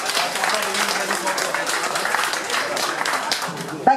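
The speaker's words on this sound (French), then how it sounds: "On peut l'applaudir encore" An audience at a club award ceremony gives a continuous round of clapping, even and fairly close, with a voice rising briefly just at the end.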